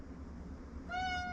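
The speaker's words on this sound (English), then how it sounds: "Can I have a meow?" A house cat meows once, a clear drawn-out call near the end, rising out of steady low background noise after a quiet stretch.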